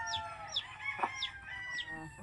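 Chickens cluck at a family's home, with several short bright clucks and calls near and fairly faint over a quiet background, no one speaking.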